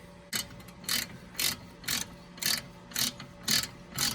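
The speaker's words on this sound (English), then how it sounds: "I'm going to use a 19mm socket, 1/2" ratchet, and counter hold it with a 22mm key" A 1/2-inch ratchet with a 19mm socket turns a strut nut on a Toyota Prius, giving eight evenly spaced bursts of sharp clicking as the handle swings back and forth.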